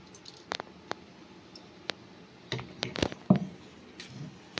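Thick ground batter of mung dal and white urad (biuli) dal is poured out for making fritters, producing soft, irregular squelches and wet clicks close by, scattered across a quiet background.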